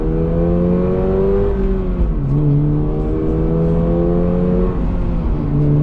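A 2024 Toyota GR86 sports car accelerates hard, its engine note climbing steadily in pitch, dipping briefly at a gear change, then climbing again, loud and close from inside the car.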